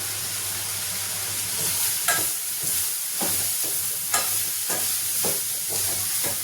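A fish curry base sautés in a pan under a constant sizzle, with regular spoon strokes scraping and tapping every second or so, close and fairly loud, without speech.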